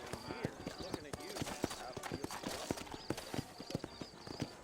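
Horse hooves trotting in Red Dead Redemption, a brisk steady clip-clop rhythm close by, with someone talking over the hoofbeats throughout.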